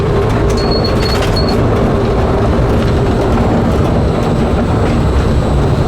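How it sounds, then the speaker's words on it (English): The Disneyland monorail entering the park, heard as an even, loud rolling rumble of the train with a faint high tone near the start, continuous throughout and with no speech. "Monorail Orange entering the park."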